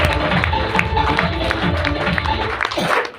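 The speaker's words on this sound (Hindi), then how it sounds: "मैं चाहूंगा जोरदार तालियां" An audience claps loudly at an AWPL company meeting, with a dense, steady wash of many hands and low crowd rumble that carries on for a few seconds before easing off at the end.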